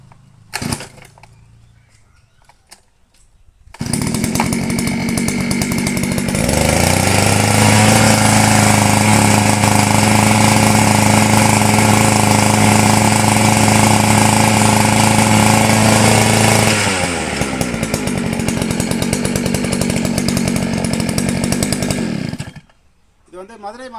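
A 71cc engine power weeder in Melur, Madurai starts and runs loud and close, a buzzy two-stroke drone that rises in pitch when revved, holds steady for about ten seconds, then drops back and cuts off.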